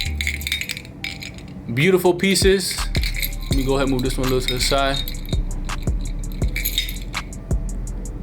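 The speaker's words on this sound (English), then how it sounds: "you hear that clashing? You hear that clashing like that?" Heavy 12mm prong-set gold Cuban link chains in rose, yellow and white gold clink and jangle together in close, bright metallic rattles and clatters, with someone talking over parts of it.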